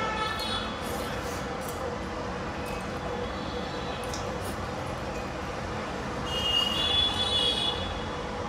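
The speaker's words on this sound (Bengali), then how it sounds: "বাড়ির সামনে যখন মেট্রোটা যায় এত ভালো লাগে দেখতে" A metro train passes in front of a house, a steady rolling rail hum with a thin high wheel squeal near the end, heard at moderate distance.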